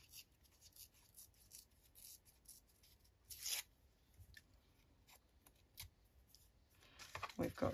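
Scrap paper with blue paint on it being torn by hand during Geli plate printing and card making, a few short close rips among quieter rustling and handling sounds.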